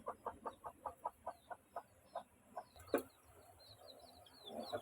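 A hen clucks in a quick, even series of about a dozen soft calls, followed by quieter chirps of chicks and faint rustling, all fairly close and low in level.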